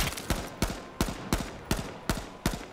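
Gunfire in the video game H1Z1: about eight sharp, loud shots in a quick, even rhythm, each cracking close by and trailing into a brief echo.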